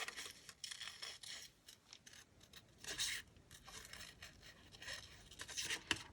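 Scissors cut an index card in a run of quick, crisp snips and rustling paper, close and fairly quiet, with no voices.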